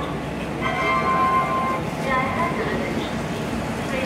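Train pulling into Varanasi Junction station, a steady rumble of wheels and station noise with a thin, high squeal of brakes near the start, while voices talk over it.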